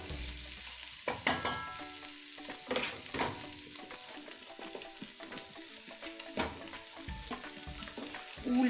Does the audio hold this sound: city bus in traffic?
no